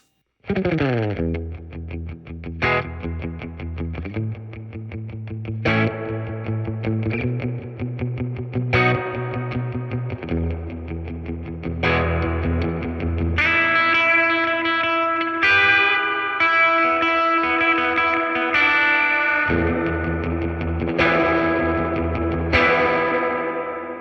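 Electric guitar played through a Fender Tone Master Deluxe Reverb amp with the spring reverb turned all the way up for a surf sound, picked chords and notes ringing out with long washy tails.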